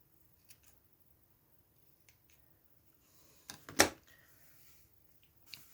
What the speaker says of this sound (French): C'est un tout petit peu trop grand, donc je vais couper.